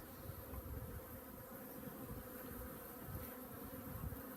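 Honeybees buzzing as Saskatraz package bees are installed into hives: a dense, continuous swarm drone, close and steady throughout, with no voices.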